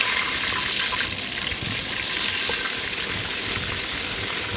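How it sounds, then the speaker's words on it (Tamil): Eggplant sautéing in oil in a pan, a steady, close hiss of frying that carries on evenly with no talk. "கத்திரிக்காய் நல்லா வதக்கணும்."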